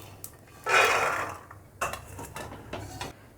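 Roasted peanuts are scooped out of a pan, with a short rattling scrape of nuts against metal followed by several lighter clinks and taps, close and fairly quiet.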